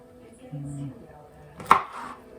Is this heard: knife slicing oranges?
yes